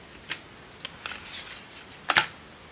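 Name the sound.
scissors cutting off sticky tape from paper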